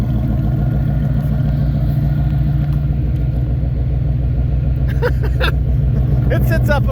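A 1993 Chevy Blazer K1500 with a couple inches of lift and dual 3.5-inch exhaust idles and rolls into a shop, a loud steady low engine rumble throughout, with a voice briefly over it near the end.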